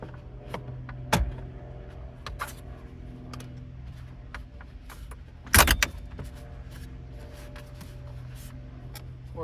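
Climate control panel trim in a 2008 Jeep Liberty pried loose with a plastic trim tool: two sharp plastic snaps or pops stand out over a low steady hum, with scattered small clicks and scrapes between them.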